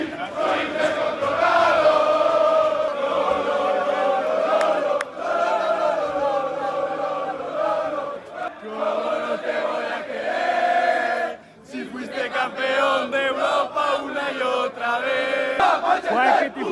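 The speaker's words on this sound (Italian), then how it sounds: "arrivati nel punto di ritrovo dei tifosi dei Blancos, una marea!" A huge crowd of Real Madrid fans fills a flag-covered square before a Champions League match against Manchester City, with loud sustained chanting and cheering that swells and dips, briefly breaking off before picking up again.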